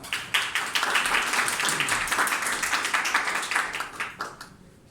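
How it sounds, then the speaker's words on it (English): An audience at a Toastmasters club meeting applauds its president, a dense patter of many hands clapping steadily for several seconds before thinning out and fading, with no talking. "give a huge round of applause to our president, Toastmaster Bluea"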